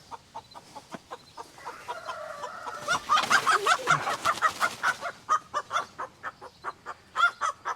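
A chicken clucks in a steady run of short, close clucks, with a brief louder squawking burst in the middle. No one talks over it.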